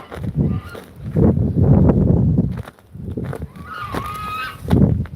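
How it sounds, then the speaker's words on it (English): A lone goose honks in a series of calls outdoors on a South Dakota farm, loud and close, mixed with footsteps and rustling. "This one goose just always hangs out by himself."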